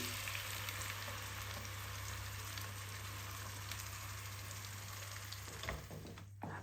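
Tomato-onion paste fries with spices in a pan for dum aloo, giving a dense, continuous sizzle with a quick stir near the end.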